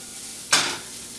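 Bacon dropped into a hot pan lets out a sudden close sizzle that bursts loudly, then fades quickly into a softer crackle.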